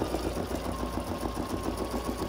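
A home embroidery machine stitches out a Christmas reindeer design, a steady, fast mechanical needle rhythm with a low motor hum running continuously and fairly close, with no talking.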